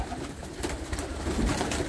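Racing pigeons cooing in a loft in Elbląg, soft continuous throaty coos close by over a busy, noisy background, with no one speaking.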